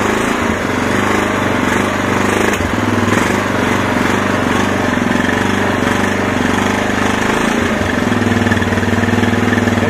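A loud motorcycle engine with a Keihin CVK carburetor idles steadily up close on choke, its low rhythmic chugging continuous with slight fluctuations and no other sounds.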